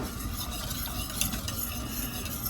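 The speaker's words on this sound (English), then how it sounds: "then we're going to add the remaining 1 3/4 cups of milk. I'm going to stir that together" A spoon stirring milk in a pot for a warm drink, a continuous swishing, scraping motion with faint metallic clinks, close and fairly loud, with no talking.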